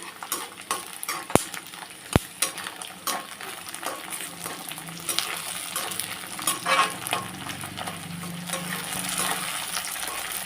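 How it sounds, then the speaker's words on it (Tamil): About a hundred garlic cloves and a hundred green chillies frying in oil for onion chilli thokku, a continuous close sizzle with spoon clinks against the pan and bursts of stirring crackle, no talking. "நூறு பூண்டு நூறு பச்சை மிளகா போட்டிருக்கோம் இந்த ஆயிலே கொஞ்சம் நேரம் ஃப்ரை ஆகணும்"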